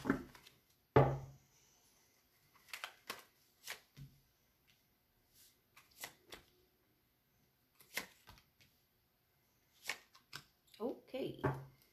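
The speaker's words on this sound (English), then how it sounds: "One more shuffle, guys" Tarot cards shuffled by hand during a reading, with a series of short crisp riffles and taps spaced irregularly across the clip, close and clear, alongside brief voice sounds.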